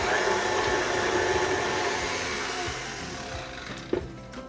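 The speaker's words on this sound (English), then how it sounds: "you're gonna just mix this together real well until that is light and fluffy" A hand-held electric mixer steadily whirs as it beats cake batter with vanilla until light and fluffy, a continuous motor drone that fades slightly toward the end, capped by a brief knock.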